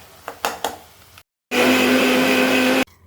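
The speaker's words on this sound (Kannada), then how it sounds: "ಇದನ್ನು ತೆಗೆದು ಮಿಕ್ಸಿ ಹಾಕಿ ಗರ್ರ ತಿರ್ಸಿಬಿಡು" A mixer grinder whirs loudly and steadily for about a second and a half, grinding fried tomato into a paste for paneer matar masala, after a few short clattering knocks and a pause.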